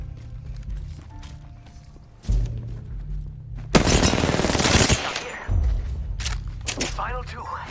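Gunfire in the battle royale game Apex Legends, with rapid bursts and one long loud barrage of shots amid mechanical clatter and game effects, close and intense, with a voice talking at times.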